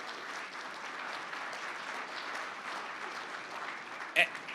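A breakfast-event audience gives a round of applause for the nonprofit community, a steady wash of clapping heard at a distance and fairly faint, with one sharp click near the end.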